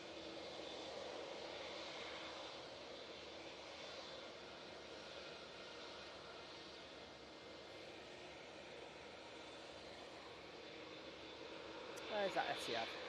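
An Etihad airliner's engines drone steadily at Manchester Airport, a faint, even roar from a distance that holds for the whole stretch, with a few sharp clicks and knocks near the end.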